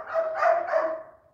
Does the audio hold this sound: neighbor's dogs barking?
yes